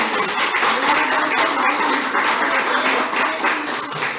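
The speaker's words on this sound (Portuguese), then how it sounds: "Aplauda ao Senhor, amém." A church congregation applauding the Lord during a service, with a thick continuous patter of many hands at a strong, even level throughout, close and unbroken.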